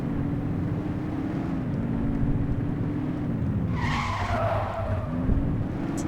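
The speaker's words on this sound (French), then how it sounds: "Petit dérapage." Car skidding in The Precinct video game: a continuous engine drone with a brief tire squeal rising partway through, steady and close, no talk.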